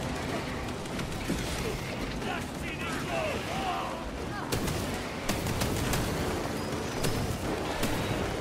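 Gunfire in Warhammer 40,000: Space Marine 2 rattles as a steady, dense wall of combat noise, with sharper shot transients after the midpoint and game voices talking over the din.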